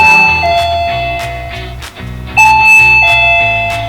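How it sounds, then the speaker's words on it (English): A loud electronic doorbell chime in a classroom plays a two-tone melody, repeating twice in clear, ringing tones with a steady low hum beneath. "when they hear the doorbell"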